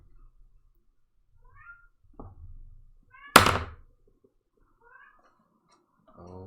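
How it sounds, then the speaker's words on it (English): A cat meows several times indoors, short faint calls spread out, with a sharp loud knock or thunk in the middle and soft bumps around it. "Oh, cats."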